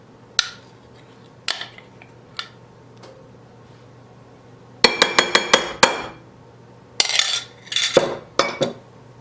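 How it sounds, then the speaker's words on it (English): Gluten-free, sugar-free pumpkin pie filling being whisked in a bowl, heard as sharp metallic clinks and clatters in scattered bursts and quick runs against a quiet background. "just whisk it together really nicely"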